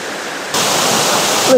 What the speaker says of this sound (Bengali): এই ঝর্ণাটা দেখুন কি সুন্দর